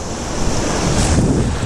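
Ocean surf at Galveston, Texas, in steady, loud, close wash: waves break and churn continuously, with heavy wind rumble across the microphone and no voices.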